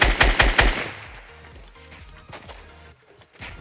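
Video game gunfire: a quick burst of several loud, close shots rattles out at the start, then fainter scattered shots and game sounds follow.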